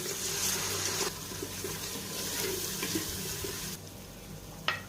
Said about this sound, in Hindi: अब इसके अंदर शामिल कर देते हैं थोड़ा सा पानी,